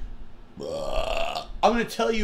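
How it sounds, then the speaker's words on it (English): A long, loud burp rumbles for about a second, followed by a brief exclamation from a voice right after. "belch. That was disgusting."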